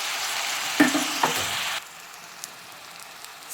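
Carrots for plov fry and sizzle in a pot, a loud steady crackle with a few stirring knocks early on, then the sizzle drops to a quieter simmer for the rest, with no talk.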